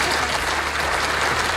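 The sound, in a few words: audience applause at business awards ceremony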